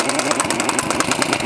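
A power tool with a socket spins a wheel fastener onto a hub, giving a steady, low-pitched, slow motor drone that runs unbroken and fairly loud from start to finish.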